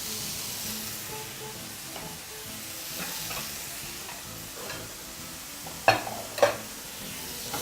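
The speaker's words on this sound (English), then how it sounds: "And just proceed to toss your pan, mixing everything together once more." Chicken fried rice with peppers, peas and black beans sizzles steadily in a hot pan, with soft stirring scrapes and two sharp metallic clanks of the pan being tossed near the end; no talking.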